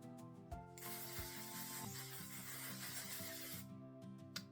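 A L'Oreal 3-second setting mist sprayed onto the face gives a steady, soft hiss lasting about three seconds, with quiet music underneath and no voices.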